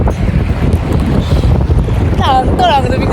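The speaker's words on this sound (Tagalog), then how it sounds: "Napakalakas ng hangin ngayon." Strong wind buffets the microphone in a loud, continuous roar, with brief voices or calls breaking through near the end.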